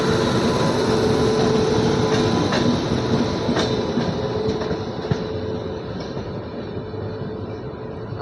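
A passenger train runs alongside on a parallel track near Asansol, a dense, loud rumble with faint clickety-clack of wheels, steady at first and easing slightly as it is overtaken, with no voices.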